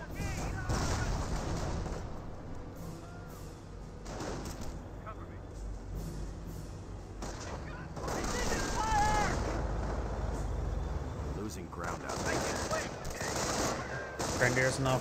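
Sustained machine-gun bursts and rifle fire crackle through a Company of Heroes battle, dense and near with heavier thumps in the low end, while a commentator talks over the shooting.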